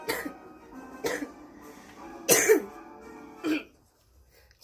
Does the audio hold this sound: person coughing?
yes